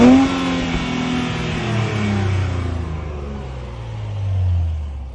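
Interior exhaust note of a 2023 Nissan Z with a 400-horsepower twin-turbo V6: a close revving drone that falls and swells again, steady and alone.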